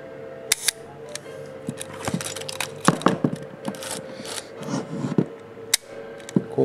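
A Rolleiflex 2.8F twin-lens camera with a Carl Zeiss Planar 80mm f2.8 lens fires its shutter at fast speeds, producing sharp close mechanical clicks scattered among handling rustles and small crinkles, with no voices.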